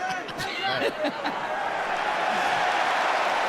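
A wrestling crowd roars steadily as Junior Tafa gets back to his feet during his match against Valter "Heel Hook" Walker, a dense, sustained wash of cheering that swells slightly and holds throughout.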